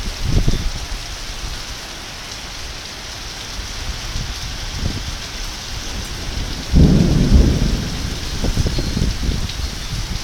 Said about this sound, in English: Okay, one more thunder.